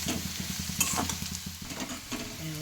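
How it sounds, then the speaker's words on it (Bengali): Vegetables fry in a pan with a soft, steady sizzle, broken by quick rhythmic spatula strokes scraping the pan close by. "আর ভাত আগে ভালো করে সবজিটা ভেজে নিই"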